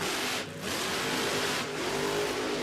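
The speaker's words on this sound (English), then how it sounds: "Couple of stabs at the throttle there for Jeff" A drag racing car's engine at a 2024 NSW Championship Series grand final, close and loud, revving steadily with a couple of brief throttle stabs dipping and surging across the short stretch.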